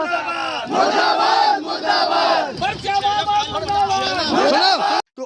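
A street protest crowd in Sagar district, activists of the Bhagwati Manav Kalyan Sangathan, chanting slogans loudly in unison, rhythmic shouted phrases repeating close by, ending abruptly.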